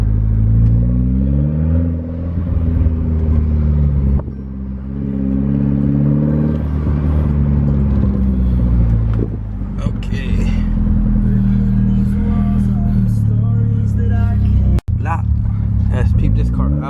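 A Mitsubishi Lancer Evo engine revs repeatedly, loud rising and falling drones with a deep rumble, while someone talks over it throughout.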